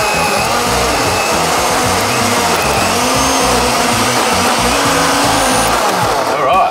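A blender grinds through kale, barbecue sauce, mayonnaise, Doritos, chocolate sauce and gummy bears, roaring loud and continuous with a churning, lurching motor tone that labors and pulses as the thick mix fights the blades.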